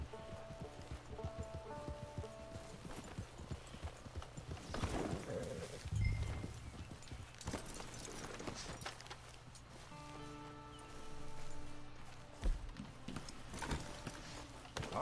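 Horse hooves clip-clop at a steady walking rhythm in Red Dead Redemption 2, moderately close, over a soft rain-like ambient bed with faint tonal music.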